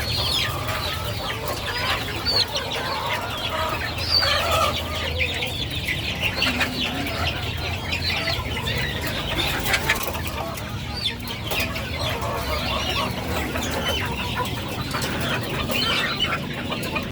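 A flock of chickens clucks and squawks continuously at close range, overlapping calls filling the air against a steady farmyard background.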